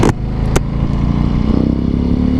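A Harley-Davidson Softail Slim rumbles on the move with a loud, close, throbbing engine note, steady and rising slightly, with a short clatter near the start.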